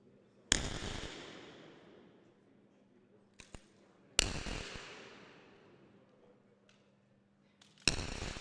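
Three sharp rifle shots ring out at a 50m rifle three-positions men's European Championship in Maribor, spaced about four seconds apart. Each crack decays in a long echo across the quiet range.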